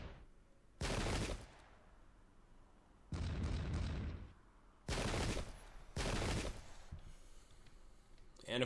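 Musket volleys in the Pike and Shot video game, set in the American Revolutionary War: four long crackling bursts of massed gunfire, each lasting about a second, separated by quieter gaps of low rumble.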